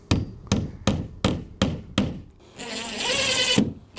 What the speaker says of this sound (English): Start the hole with a nail in the direction that you want the screw to be driven.